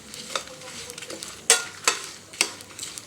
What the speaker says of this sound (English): now add this curry leaves and red chilies to it and dry roast